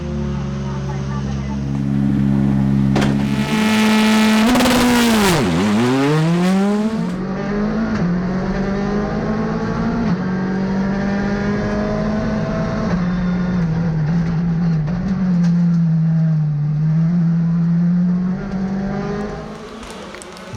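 Rally cars race a stage of the 50th Rallye de Ferrol in Galicia, Spain, a round of the 2019 European Rally tour; engines rev hard and swoop past with Doppler pitch drops, loud and continuous throughout.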